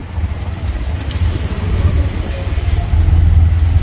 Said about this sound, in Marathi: हे असं ट्रॅफिक लागतं